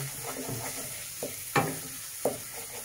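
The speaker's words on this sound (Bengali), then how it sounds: "চলুন পেঁয়াজটা একটু কষে নিই এবং পেঁয়াজ থেকে তেল ছাড়বে" Onions sautéing in oil for a Bhola fish curry, with a soft steady sizzle and a few sharp spoon scrapes and taps in the pan. No one talks.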